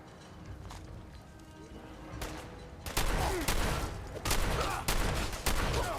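Heavy-recoil gun firing in the video game Fallout 4, a series of loud, evenly spaced shots starting midway after a quieter stretch of background game noise.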